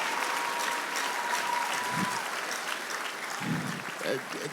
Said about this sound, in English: Mona, clap for him again.